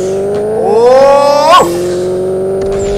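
A Nissan G35 in the mobile drag-racing game Pixel Car Racer revs up in a rising whine that climbs steeply, peaks, then drops sharply at a shift before settling into a steady drone, loud and close, with a brief exclamation over it.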